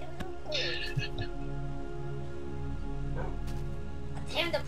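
A wolf puppy in Minecraft gives a few short, high yips and whimpers over a steady game background hum, the small barks brief and scattered.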